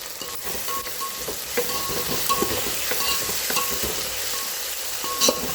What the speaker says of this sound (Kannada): ಒಂದು 2 ನಿಮಿಷ ಫ್ರೈ ಆಗಲಿ. ಆಮೇಲೆ ಈರುಳ್ಳಿ ಎಲ್ಲ ಫ್ರೈ ಆಗುತ್ತೆ